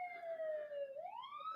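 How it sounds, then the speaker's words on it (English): A distant ambulance siren wails as it passes, a single smooth tone sliding down and then rising again, faint and clear over quiet background with no talking. "just feeling so bad that I can't chase that ambulance"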